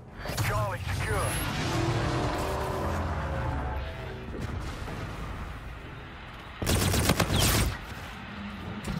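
Gun run strike in a first-person shooter match: a dense roar of rapid heavy gunfire and rumbling impacts, with a voice speaking over the battle noise and a loud burst near the end.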